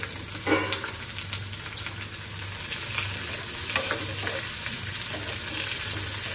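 Sliced okra half-frying in a pan with a steady, dense sizzle and crackle throughout, punctuated by occasional stirring scrapes, close and continuous with no voices.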